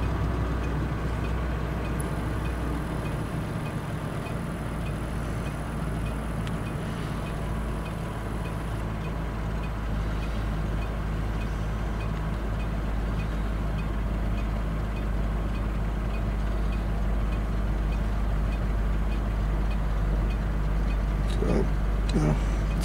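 A Mercury Grand Marquis drives along with a steady low engine and road drone heard from inside the cabin, continuous for the whole stretch with someone talking over it.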